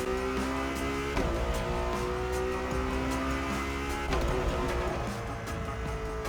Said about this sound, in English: The car sounds in this game are solid